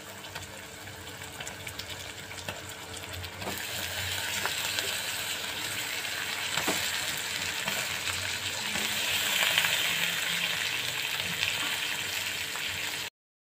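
Eggplant dropped into fried spice masala in a pan, giving a steady broadband sizzle that swells slightly and carries on for several seconds, close and loud, then cuts off abruptly.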